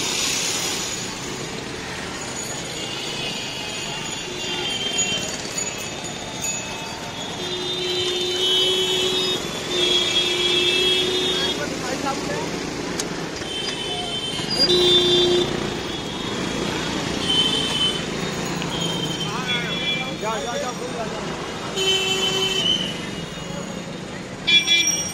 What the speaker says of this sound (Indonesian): Banyak sekali di sini suara klakson.